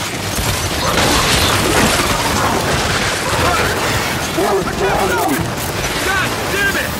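Sustained gunfire from the Gears 5 video game rattles loud and dense throughout, a continuous barrage layered with game music and shouting voices.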